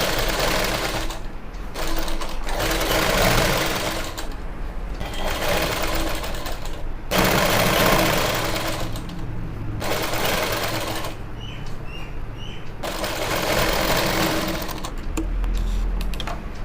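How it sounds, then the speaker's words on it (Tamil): An electric sewing machine stitches another seam around gathered pants, whirring steadily in runs of several seconds broken by short pauses, close and clear. "சுற்றி இன்னொரு தையல் போட்டலாம்."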